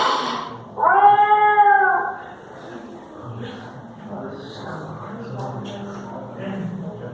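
A four-month-old kitten gives one clear, loud, drawn-out meow near the start, followed by indoor conversation and background chatter.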